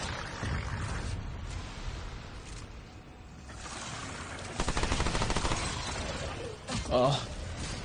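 Gunfire crackles in a Remnant 2 mini-boss fight, with bursts of shots and a sharp shattering hit partly buried under a player talking excitedly.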